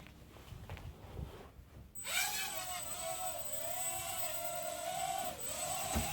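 A Fayee FY530 quadcopter, flying indoors with its prop guards and landing gear removed, spins up its motors after a short rustle into a close, steady high whine whose pitch wavers and wobbles as it hovers.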